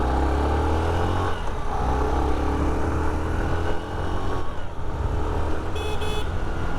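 A Hero Glamour 125 motorcycle pulls away from a standstill in first gear, its steady engine drone loud and close over road and wind noise, with a brief horn-like tone near the end.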